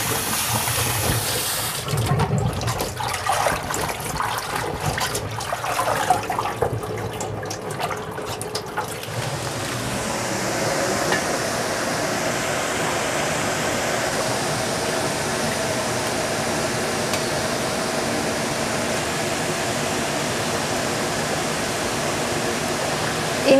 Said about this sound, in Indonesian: Ini sayurnya cuma tak rebus sebentar ya